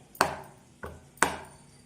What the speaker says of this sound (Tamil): இந்த மாதிரி எல்லா சுண்டைக்காயும் தட்டி எடுத்துக்கலாம்.